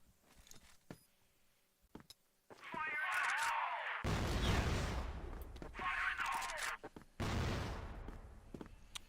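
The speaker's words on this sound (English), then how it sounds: "Good nade as well." Gunfire and a grenade blast in a competitive tactical shooter match, with bursts of shots and loud explosive crashes over a few seconds while commentators talk.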